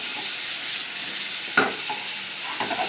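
Pork frying over fairly high heat in a pan with butter and olive oil, seasoned with salt, pepper and smoked paprika, a close, steady sizzle broken by a couple of brief stirring scrapes.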